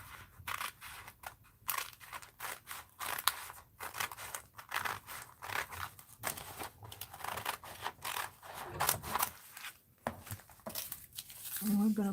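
Scissors snip and cut through fabric while an art journal is made, with a run of close, irregular cutting and crinkling sounds and some soft rustling of material throughout.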